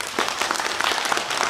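A Korean lecture audience breaks into applause for the speaker after a talk on similarities in folk customs: dense, steady clapping from many hands filling the short moment.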